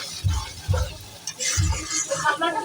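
Masala spice paste frying in oil for a prawn and jackfruit curry, with sizzling and a few low thuds and scrapes of stirring in the pan, close and fairly quiet.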